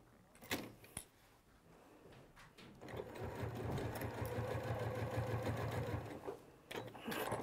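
A few clicks and knocks come first, then a sewing machine starts up and runs steadily for about three seconds while base stitching a piece into place an eighth of an inch from the edge, before stopping with more handling clicks.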